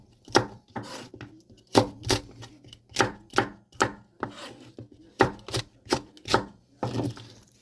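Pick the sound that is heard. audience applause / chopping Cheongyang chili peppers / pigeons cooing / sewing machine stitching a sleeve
chopping Cheongyang chili peppers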